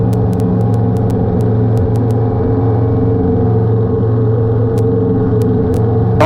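A loud, steady small-airplane engine drone during takeoff fills the whole stretch, deep and continuous with a few faint clicks over it, close and unbroken.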